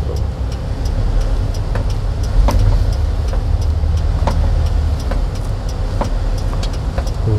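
A car's engine hums steadily and close through a manual-transmission driving lesson as the accelerator is pressed, with a low rumble holding throughout and faint clicks and knocks scattered over it; no one speaks.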